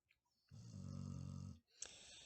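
A person snores loudly and near, one long rasping inhaled snore followed by a brief pause and the start of another, with no talking.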